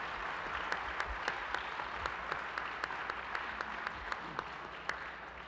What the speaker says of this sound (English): how about a round of applause for a fascinating conversation